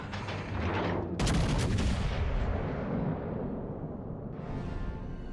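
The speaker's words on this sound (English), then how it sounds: "Concentrate fire on the enemy warship." Warship guns aboard the North Carolina fire at an enemy ship during a ranked naval video game battle: a rumbling opening, then a sharp, very loud broadside blast that booms and fades slowly, with a further distant report near the end and no voices.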